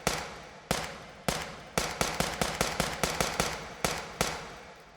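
Suppressed M9 handgun firing in the VR shooter H3VR, a string of about fifteen sharp, muffled shots, some single and spaced, others in quick rhythmic bursts, close and alone with no talking.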